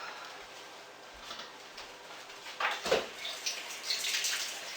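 Kitchen tap water running for washing up, a faint steady splash and trickle that grows a little louder and more broken toward the end, with no talk.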